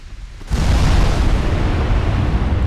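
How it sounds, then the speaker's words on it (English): A 19-inch battleship shell strikes in Ultimate Admiral Dreadnoughts, a sudden heavy boom that swells into a loud, sustained roaring rumble. "And there we've already taken a hit. 19-inch guns from their battleship."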